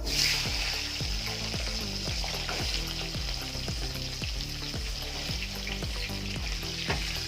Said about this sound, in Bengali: আলুটা একটু ভেজে নেবো নিয়ে তারপরে বেগুনটা দিয়ে দেবো